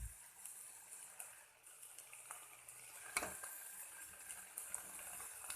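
Baby dried fish fries in a pan over a low flame with a quiet, steady sizzle and crackle, plus occasional faint stirring clicks and one sharper clatter midway, with no talking.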